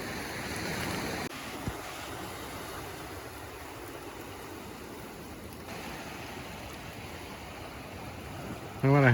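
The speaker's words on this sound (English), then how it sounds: "The water's washing up under my seat here." Ocean waves washing up on a New England beach with the incoming tide, a steady close rush of surf and water with wind buffeting the microphone throughout, swelling louder at the very end.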